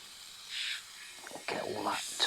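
Degreaser sprays onto the ring of a Cadac Safari Chef portable gas BBQ in a few short, soft hissing bursts, with faint handling noise between them.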